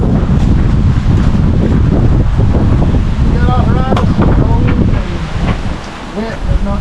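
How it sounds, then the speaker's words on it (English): Strong wind roars steadily outdoors on a cold day, a broad continuous rush buffeting close against the microphone for the whole stretch, with a few faint higher tones and rustles mixed into the gusts. "the wind is terrible today"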